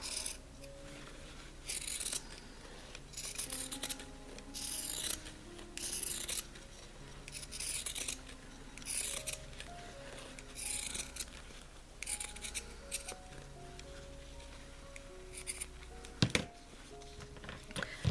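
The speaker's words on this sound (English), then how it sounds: "I'm going to use pinking shears so it isn't as likely to ravel" Pinking shears trimming weaver's cloth around the edges of a punch needle ornament, giving soft, repeated snipping and rasping cuts at close range, quiet and steady over a faint background hum.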